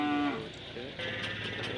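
At a cattle market where cows, bullocks and oxen are tied up, a cow gives a loud, drawn-out moo at the start, then a softer lowing call follows amid background murmur.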